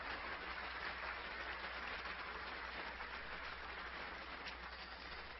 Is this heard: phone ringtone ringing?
no